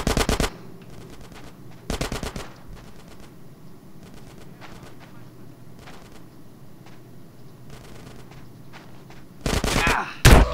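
Bursts of automatic gunfire in Grand Theft Auto: San Andreas, with loud rapid volleys at the start, around two seconds and near the end, scattered shots and a low ambient rumble in between.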